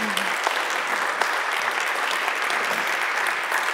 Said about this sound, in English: This is your fun time where you applaud like mad.